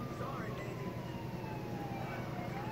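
Ambulance siren in the video game GTA 4, wailing with slow falling sweeps, fairly faint and mixed into a busy street-noise background.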